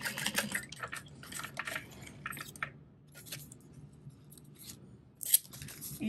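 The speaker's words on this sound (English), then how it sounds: "And I'm just going to gently trim there at an angle to reduce the bulk." Scissors trim fabric at an angle while sewing a zippered wristlet, giving several quiet crisp snips at irregular intervals, close by in a quiet room.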